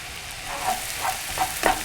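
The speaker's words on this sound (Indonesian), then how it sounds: "Sekarang saya tumis bawang bombaynya dan bawang putih." Onion and garlic being sautéed in a pan for Swedish-style chicken meatballs, a soft frying sizzle with a few stirring scrapes and clinks, close and fairly quiet, no voices.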